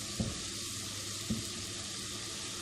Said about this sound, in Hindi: अब इसको भी हम 5 मिनट के लिए फ्राई करेंगे